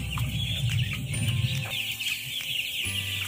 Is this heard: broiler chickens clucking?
yes